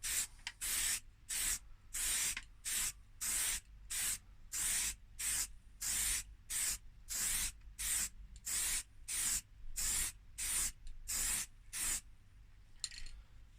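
Aerosol spray paint applied to a Nissan Almera N16 wheel trim in short on-off bursts, about twenty evenly spaced hissing puffs, close and steady, with no talking.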